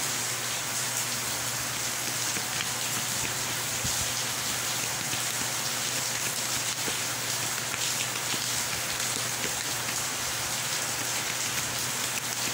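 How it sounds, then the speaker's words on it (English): Steady rain falling on surfaces outdoors, a dense continuous hiss with scattered drops, loud and even throughout with no voices. "I love to listen to the rain."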